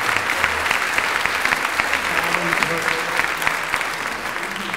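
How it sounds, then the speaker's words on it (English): Another round of applause for panelists at a Comic Con stop-motion special effects panel: crowd clapping in a large hall, steady and fairly loud, with scattered cheers and some voices under it. "one more round of applause for our panelists."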